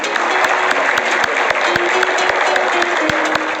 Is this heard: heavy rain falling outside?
no